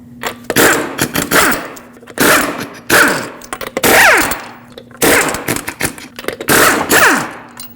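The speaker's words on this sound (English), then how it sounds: "use a 21mm socket and remove all 5 lug nuts and then pull the wheel off." An impact wrench takes the lug nuts off a 2006-2015 Lexus IS250 with a 21mm socket, in loud close bursts of rapid hammering. Several rattling runs are separated by short pauses.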